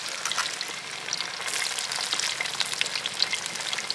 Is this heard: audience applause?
no